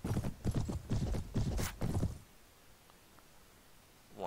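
Horses gallop in a battle in the video game Mount & Blade, rapid hoof clip-clop close and loud for about two seconds before dropping to near quiet.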